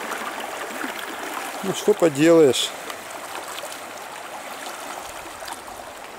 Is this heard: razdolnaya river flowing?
yes